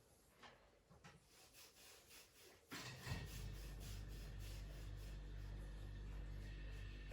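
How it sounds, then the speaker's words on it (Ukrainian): A dull kitchen knife saws and hacks through food on a board in a few rough strokes, followed by a steady low hum from the kitchen. "Оце ще ніж у мене тупенький. Красиво не хоче різати."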